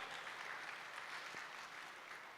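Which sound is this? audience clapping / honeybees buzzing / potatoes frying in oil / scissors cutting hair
audience clapping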